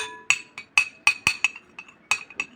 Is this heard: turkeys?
no